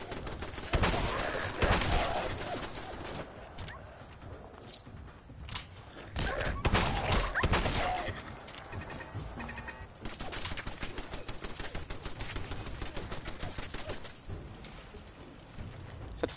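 Gunfire in a Fallout video game: scattered heavy shots and thuds throughout, then a steady run of rapid automatic fire near the end, dense and fairly loud.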